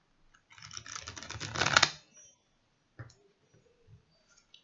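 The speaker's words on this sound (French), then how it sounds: "je commence à mélanger les cartes." Tarot cards are shuffled close by in one quick rustling, clicking riffle lasting about a second and a half, followed by a few soft isolated taps and near silence.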